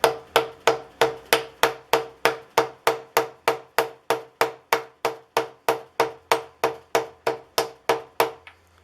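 A large socket taps an engine part evenly on a 1968 Fiat 850 Spider rebuild, about two dozen sharp metallic knocks in a steady even rhythm, close and clear with no talking.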